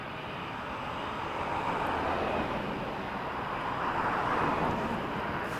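Aircraft at Toronto Pearson airport give off a steady, broad jet roar that swells slightly louder midway and holds at a moderate, distant level with no talk over it.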